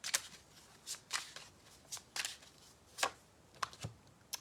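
Tarot cards are shuffled close up in a quiet room, giving scattered soft riffling flicks and taps, faint and irregular, with no talking.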